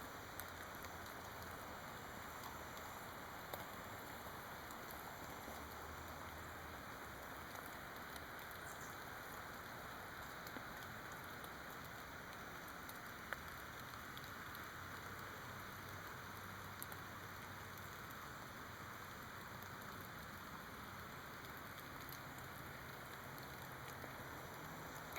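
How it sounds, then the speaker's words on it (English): Steady broadband rushing of the Patapsco River near its mouth, a continuous even wash that fills the whole stretch with no voices, heard from a riverside walk. "You can hear the river in the background."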